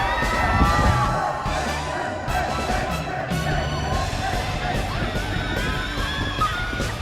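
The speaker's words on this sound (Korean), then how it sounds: "순례객들은 환호성을 지르며 들어옵니다." Pilgrims arriving in Santiago at the end of the pilgrimage route cheer and shout in a crowd outdoors, a continuous noisy mix of yells and voices over low background rumble.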